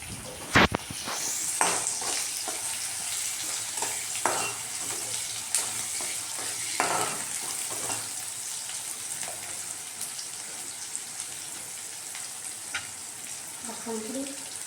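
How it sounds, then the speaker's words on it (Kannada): Onions and green chillies frying in oil in a pan give a soft, steady sizzle, with scattered clinks and scrapes of stirring. The sounds are fairly faint and nobody speaks. "ಮೆಣಸಿನ್ಕಾಯಿ ಎಣ್ಣೆಲಿ ಫ್ರೈ ಆದಮೇಲೆ ಈರುಳ್ಳಿ ಫ್ರೈ ಆಗಿದೆ ಸಾಕು. ಈಗ ಈರುಳ್ಳಿ ಹಾಕೋಣ."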